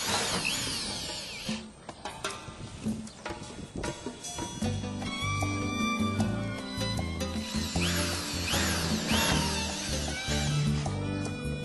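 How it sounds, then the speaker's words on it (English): A power drill driving screws through bottom flashing into the ribs of metal roof sheets during a skylight installation on a warehouse roof, with repeated whirring bursts, ratcheting clicks and metallic rattles. "Screw the bottom flashing to the ribs of the roof sheets."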